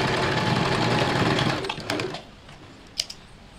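A sewing machine stitching a blouse whirs steadily up close for about a second and a half, then slows and stops, leaving a few faint clicks and taps in quiet.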